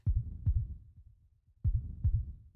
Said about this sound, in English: Certainly could feel a beat. A heartbeat.